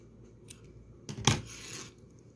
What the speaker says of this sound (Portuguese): já posso cortar o meu fio